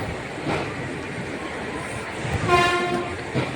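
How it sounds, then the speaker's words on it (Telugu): A train rumbles into a station close by, its horn sounding briefly near the end over steady rolling wheel noise. "స్టేషన్ అవి వచ్చేసిందండి మా ట్రైన్"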